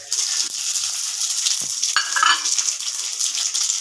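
Whole shahi jeera spices hit hot oil in a wok and fry with a loud, continuous hissing crackle and some brief stirring scrapes.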